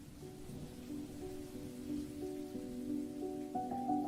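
Steady rain falls in a soft continuous patter, with sustained musical tones playing quietly underneath.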